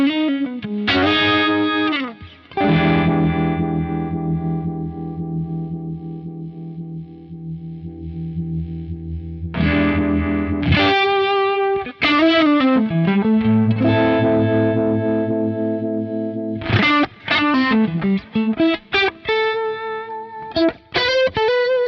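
Guitar played through a Strymon Ultraviolet pedal in blend mode, giving a thick, warbling, effected tone across several loud phrases with sustained chords and quick runs, no talking.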